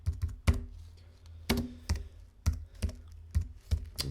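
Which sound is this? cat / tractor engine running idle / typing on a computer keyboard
typing on a computer keyboard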